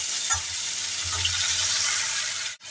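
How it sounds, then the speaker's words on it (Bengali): Ridge gourd frying with turmeric in a hot pan, a steady close sizzle with a few soft stirring scrapes and clinks underneath. "হলুদ দিয়ে আমি সমস্ত ঝিঙেগুলোকে ছেড়ে দিলাম। ঝিঙেগুলোকে ছেড়ে এবার একটু নাড়াচাড়া করে দেব।"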